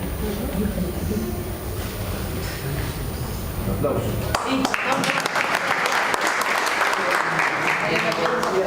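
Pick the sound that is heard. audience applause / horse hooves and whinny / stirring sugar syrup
audience applause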